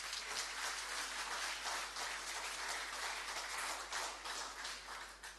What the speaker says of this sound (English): We can have a louder applause here.